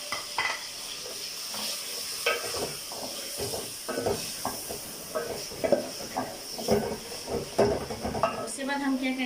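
Chicken sizzles in a pot with ginger powder, cumin, red chili, salt, turmeric and garam masala for haleem. A steady hiss runs under repeated scraping stir strokes, and a voice speaks now and then.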